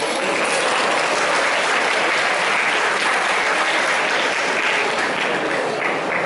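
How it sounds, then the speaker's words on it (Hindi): Steady, dense applause from a seated audience fills a school prize-giving ceremony, loud and continuous throughout without voices. "कृपया तालियों से इनका उत्साह बढ़ाइए"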